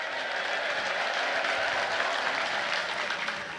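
A congregation applauds in praise at a healing-testimony gathering: dense, steady clapping fills the space at full loudness from start to finish, with no break and no voice rising above it.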